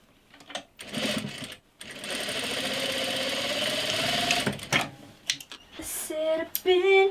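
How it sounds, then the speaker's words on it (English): A sewing machine runs in a steady buzzing burst of about three seconds, stitching the seams of a dress bodice, with brief start-stop whirs and a few clicks before and after, close and fairly quiet. "you sew that down, and basically that finishes all of your seams for you"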